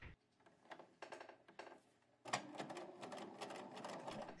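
Sewing machine stitching a quilt binding along a diagonal line: a few short bursts of stitching at first, then a steady, continuous run of rapid mechanical clatter close by.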